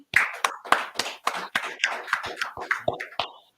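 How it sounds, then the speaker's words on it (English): Group clapping hands at a scripture class gathering, a dozen or so sharp, close claps in a steady, slightly uneven rhythm, then stopping. "Clap it up."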